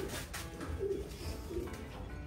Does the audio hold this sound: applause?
no